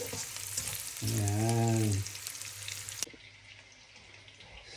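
Garlic and onions sizzle while sautéing in a pan for a mussel (tahong) dish, a steady close frying hiss with stirring, briefly overlaid by a low humming tone; a voice speaks briefly.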